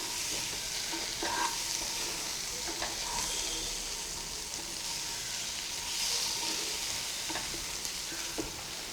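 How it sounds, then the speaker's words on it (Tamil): Goat brain stir-fries gently in a pan, giving a continuous close sizzle with soft, occasional spatula turns and no talk. "மூளையை லைட்டாக பிரட்டி விட்டால் போதும், ரொம்ப கிளறினீங்கன்னா உடஞ்சி போயிடும்."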